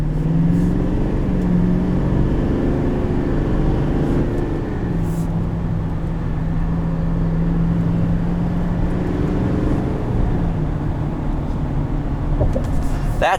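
A 2020 GMC Sierra 2500HD Denali turbo diesel pickup drones with a steady, low engine rumble and road noise, heard from inside the cab at constant loudness for the whole stretch.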